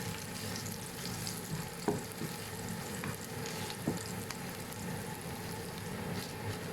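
Dried chilies frying in oil in a pan after shallots and garlic for a chili paste with minced pork, a close steady sizzle with a few stirring knocks and scrapes, no talk.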